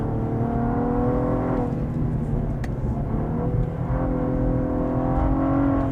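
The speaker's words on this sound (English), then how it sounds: "A little hesitant there when I went down to second and went back on the gas." A Cadillac ATS-V sedan downshifts to second and pulls back on the throttle, its engine droning steadily from inside the cabin with a brief dip in pitch before the revs climb again.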